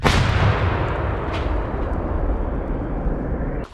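Russian artillery gun firing on a Dnipro river bank, heard as a single loud, close blast whose heavy rumble fills the whole clip and slowly decays without fading out.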